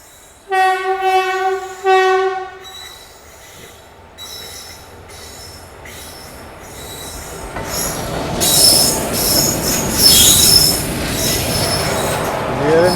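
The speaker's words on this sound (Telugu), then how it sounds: "ఇప్పుడు మళ్ళీ ఈ గూడ్స్ మళ్ళీ ఓవర్టేక్ చేస్తాం." An express train overtaking a goods train near Ramagundam, heard from on board: a loud horn blast, then squealing wheels and a rising rumble and clatter of the passing wagons.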